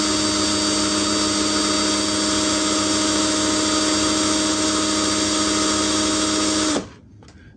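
A SOKIN 21V brushed cordless drill runs steadily at speed 1 with a loud, constant high whine for about seven seconds, then cuts off abruptly and spins down into near silence.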